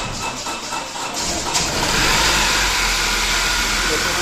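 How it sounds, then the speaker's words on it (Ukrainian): A Honda CR-V engine that had been failing to start turns over and catches, then settles into a loud, steady idle close by. "після того, як ми його процарапили, автомобіль почав запускатись"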